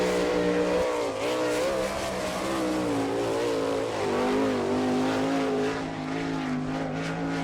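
A sprint car runs a qualifying lap at Attica Raceway during an All Star Circuit of Champions event, its engine screaming loud and steady as the pitch rises and falls through the turns.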